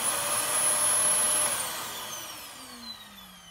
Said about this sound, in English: Now the vacuum itself, the motor, hang on.